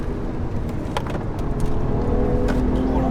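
BMW 1M Coupé engine pulling hard at full throttle around 4500 rpm, a steady, loud, droning growl heard from inside the cabin, continuous for the whole stretch with no one talking.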